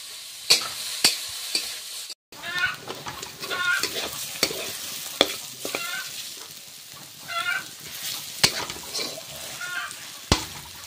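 Beetroot with turmeric and salt sizzles in a pan while a utensil scrapes and stirs it in repeated sharp strokes, the frying hiss steady and close beneath the stirring clatter.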